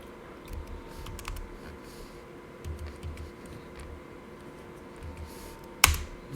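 Computer keys clack in quick, irregular bursts as a code comment is typed, close and fairly soft over a quiet room hum, with one sharper knock near the end.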